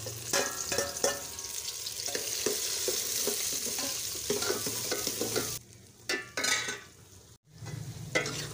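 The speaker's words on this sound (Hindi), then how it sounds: "सबसे पहले हम ये आधा किलो भिंडी ये फ्राई करेंगे।" Half a kilo of okra (bhindi) fries in oil, giving a steady, busy sizzle with intermittent stirring scrapes, briefly dipping before the frying hiss resumes.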